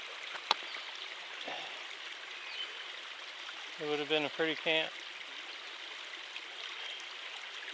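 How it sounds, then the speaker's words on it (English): A small waterfall beside the Appalachian Trail gives a steady, soft rushing wash heard from a short distance, with someone speaking briefly over it midway. "Got a little waterfall over there."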